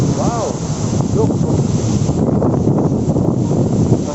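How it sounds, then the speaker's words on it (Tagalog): Strong wind on a rainy, muddy mountain trail at Mt Romelo in Siniloan, Laguna, a loud continuous rushing roar battering the microphone, with a short voice near the start. "Mahangin!"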